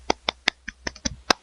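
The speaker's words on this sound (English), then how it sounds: "That's me clapping enjoyment." Hand clapping from a single person, eight crisp, fairly evenly spaced claps in quick succession, close and dry with no other sound around them.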